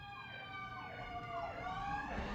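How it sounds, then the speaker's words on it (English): Fire truck sirens wail as the engines pass by outside, their rising and falling tones sweeping continuously at a moderate distance, fairly quiet and without talk. "Some fire trucks going by."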